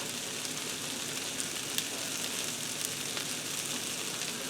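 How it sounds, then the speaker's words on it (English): Onions sizzle steadily in a frying pan, having turned translucent and started to brown, a continuous close crackle with tiny pops and no voices. "now that I allow my onions to fry for a little bit and they're translucent, you can see they're starting to brown up"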